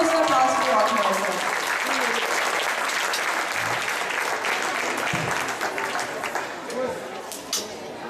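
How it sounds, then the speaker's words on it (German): Sustained audience applause for a girls' rock'n'roll dance formation team at a competition, loud and steady with dense clapping and some crowd cheering, tapering slightly toward the end. "Trotzdem einen großen Applaus für die Rockmäuse."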